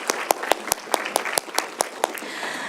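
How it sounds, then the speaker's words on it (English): A small audience at a school district board meeting claps briefly, a sparse scatter of distinct individual claps rather than a full ovation, close and fairly quiet. "If we could just maybe give them a round of applause"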